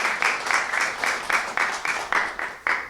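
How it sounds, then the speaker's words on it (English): A small audience claps in rhythmic unison for student speakers being called up at a school club event, regular beats about four per second, fairly near and alone without talk. "Round of applause."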